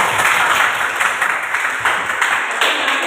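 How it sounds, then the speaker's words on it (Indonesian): Dense classroom applause from students in an Indonesian school lesson, steady many-handed clapping filling the room for about three seconds, loud and close, with no talk over it. "Tepuk tangan buat Emin."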